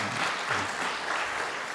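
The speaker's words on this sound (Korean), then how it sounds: "우리 박수해 주시기 바랍니다." A church congregation applauds after a choir's hymn at a prayer-meeting service, producing a short burst of even, dense clapping filling the sanctuary.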